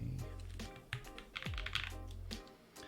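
Keys clack on a mechanical computer keyboard with a purple case and Cherry-style switches, a quick irregular run of close, crisp taps and thocks with no talking.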